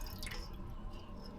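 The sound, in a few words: excess water draining off while cleaning fish in kitchen sink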